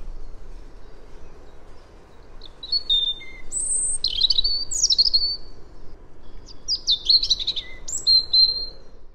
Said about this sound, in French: Maintenant j'ai un rouge-gorge.